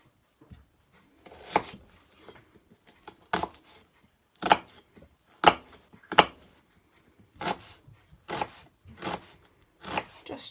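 Knife chopping red onion on a board for a pasta tuna salad, with about ten sharp, close chops in an uneven rhythm and short gaps between them.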